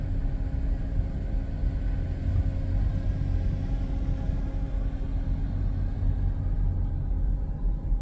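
Sports cars, including a Jaguar XK, roll into the Newby Hall show park, a steady low engine rumble holding near and even throughout with no voices.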